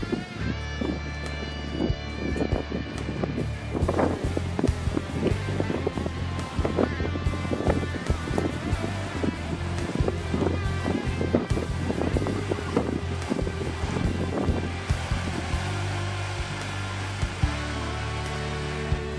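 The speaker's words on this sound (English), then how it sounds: "Then I waited for the wind." Wind blowing around a rooftop Thermodyne 1600W wind turbine with new blades and hub, heard as a steady loud whooshing roar with a humming tonal drone running throughout, no speech.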